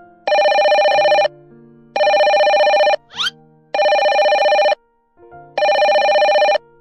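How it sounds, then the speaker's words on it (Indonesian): A mobile phone rings loudly and close by, four long electronic ring bursts separated by short pauses, with faint brief noises in the gaps, in a horror cartoon. "tiba-tiba HP saya berbunyi Dek Wowo. Ada yang menelepon."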